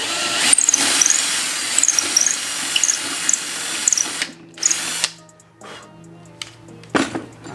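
A power drill whines at high pitch enlarging pre-drilled hook holes in a birdhouse, spinning up and down in several short bursts, close by, with brief pauses and a clink between runs.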